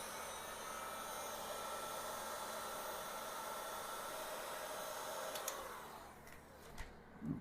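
A heat gun blows a steady, hissing stream of hot air up close, cutting off near the end, followed by a few faint knocks and handling clatter.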